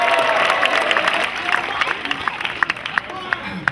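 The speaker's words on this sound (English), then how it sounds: "Big round of applause." An audience at a football team barbecue at Villa Park bursts into applause and cheers, a dense wash of clapping that thins into scattered individual claps toward the end.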